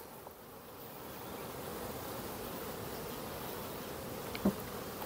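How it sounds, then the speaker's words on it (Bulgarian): Honeybees hum steadily around an open hive during an oxalic acid treatment, a soft continuous buzz close by with a brief louder pass of a single bee near the end, and no talking. "Не дразня пчелите."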